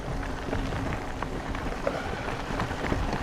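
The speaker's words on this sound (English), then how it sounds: "Yeah, it's raining on me a little." Light rain patters steadily during an ebike ride on a Forest Service dirt road along the Mogollon Rim, a dense, even hiss with faint drop ticks and no voices.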